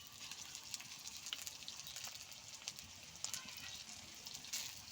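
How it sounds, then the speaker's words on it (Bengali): Ginger-garlic paste sizzles faintly in a pan with browned onion and green chillies, a soft, steady crackle with scattered pops throughout. "হালকা ভেজে নেব"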